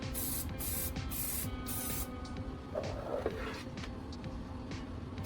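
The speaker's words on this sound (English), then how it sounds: "I'm applying several coats of black spray paint to blend the repaired area seamlessly with the original" Black spray paint is sprayed onto repaired plastic in several short hissing bursts, then a softer continuous spray, fairly close and with no talk.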